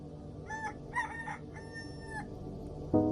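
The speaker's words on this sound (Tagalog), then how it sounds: "Nagsisimula na nga tumilawak ang mga manok nang makatulog ako" Roosters crow at a rural village home at night, three drawn-out calls in a row at moderate distance over a low background hum, with a brief thump at the end.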